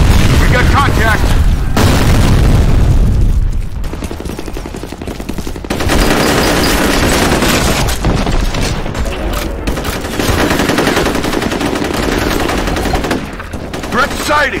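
A grenade blast goes off amid sustained automatic gunfire in a F.E.A.R. multiplayer firefight. The deep booms and rattling bursts stay loud and near throughout, with a few lulls and shouted radio-style voices mixed in.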